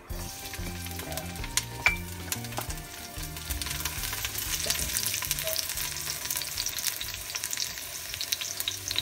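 Garlic sizzles and fries in hot oil in a pan for a stew, a steady loud crackling hiss with occasional stirring clinks, and no talking.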